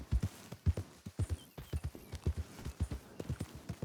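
Horse hooves clip-clop steadily in Red Dead Redemption 2, a quick even rhythm of close, distinct thuds that continues throughout with no talk.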